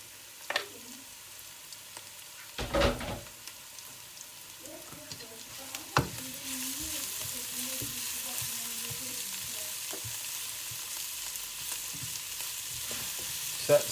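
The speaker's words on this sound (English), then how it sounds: "I've got to fry that till that raw smell goes." Chili pieces and their seeds fry in a pan for an okra and tomato curry, a steady soft sizzle that thickens midway, broken by a few sharp clinks and stirring knocks, with no talk over it.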